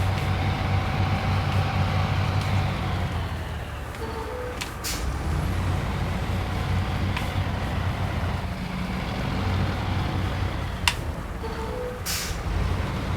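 A heavy truck engine in the video game Snowrunner rumbles steadily with tyre and road noise, punctuated by short hissing bursts like air brakes.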